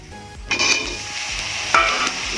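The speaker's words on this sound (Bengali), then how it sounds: "পেঁয়াজটা একটু ভাজা ভাজা হয়ে গেলে পেঁয়াজ কেটে রাখা আলু আর কচুটা তেলে দিয়ে দেবো।" Onion, potato and taro fry in hot oil with a loud, close sizzle, punctuated by a few scraping stirs and knocks of a spatula against the pan, without voices.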